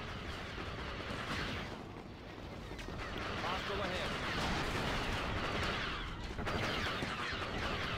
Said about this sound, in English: I'm actually gonna go with the rocket launcher now.